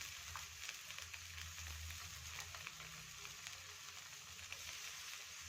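Holige, a sweet flatbread, frying in oil on a pan, giving a steady, soft sizzle that continues evenly throughout with no pauses.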